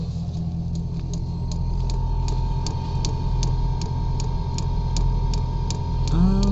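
A diesel heater's fuel pump ticks while priming in a truck bed, sharp regular clicks about every quarter second over a steady low rumble and hum, with a rising tone at the very end.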